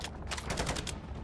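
Rapid bursts of automatic fire from a sentry gun in Modern Warfare Zombies ring out in quick succession, a steady rattling volley at moderate distance with no voices over it.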